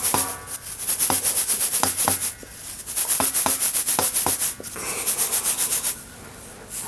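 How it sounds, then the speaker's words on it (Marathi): Ground sambar masala spices are sifted through a sieve by hand, giving a steady rhythmic scratchy rubbing with repeated taps against the rim, close and fairly loud, pausing briefly near the end. "हे पण आता चाळून घेते"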